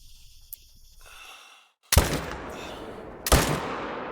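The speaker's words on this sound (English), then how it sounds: "I just shot him in the head." A hunting rifle fires twice in theHunter: Call of the Wild, with two sharp loud shots about a second and a half apart, each ringing out in a long decaying echo after quieter ambient rustling.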